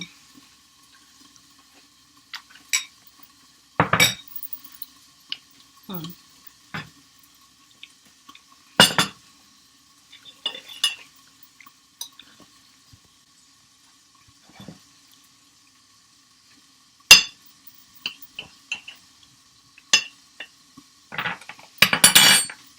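Metal cutlery clinking and scraping against a dish while cutting into low carb cabbage rolls, sparse sharp taps and clatters spread out over near silence.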